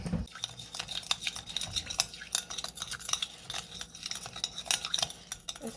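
A small cornstarch mixture is whisked in a bowl, giving quick, rhythmic clinks and scrapes against the sides that are quiet and close, with no talking.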